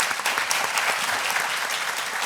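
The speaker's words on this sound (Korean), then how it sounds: "우리 자장 여러분들께 큰 박수 한번 부탁드리겠습니다." Audience at a hearing-loss panel forum clapping in a sustained, dense burst of applause that fills the whole short moment without pause.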